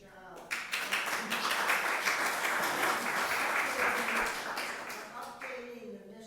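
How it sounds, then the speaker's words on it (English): Audience applause swells after a brief pause and holds steady for about five seconds in a meeting room at a nonprofit membership kickoff, then tapers off as talk resumes. "I just want to applaud you all."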